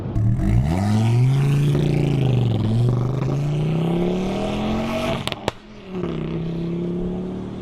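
A Ford Focus ST hot hatch engine revs up hard and holds a rising, throaty drone, then briefly lifts off with a couple of sharp pops before settling back into a steady idle-like hum.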